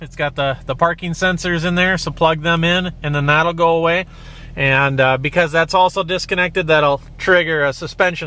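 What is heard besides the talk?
No everyday noise stands out behind the speech.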